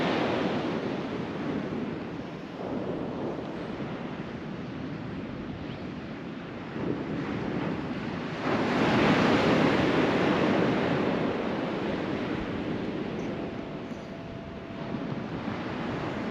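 Sea waves wash steadily onto the Holderness coast at Withernsea, a continuous broad roar with a swelling surge partway through, mixed with light wind noise and no talking.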